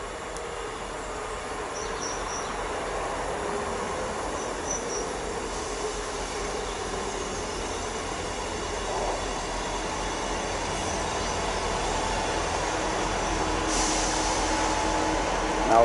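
A Great Western Railway class 158 diesel unit, 158958, at Keynsham station, with a steady rumble of the train running that swells slightly toward the end and faint squeals over the top.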